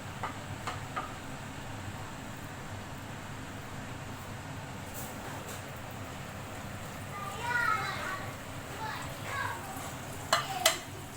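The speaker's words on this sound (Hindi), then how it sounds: "इसी तरह हम सारे फ्राई कर लेंगे, बैंगन भी और मिर्चें भी।" Eggplant and green chili fritters deep-frying in hot oil in a home kitchen give a steady, soft sizzle that swells a little near the end, with children's voices and talk in the background.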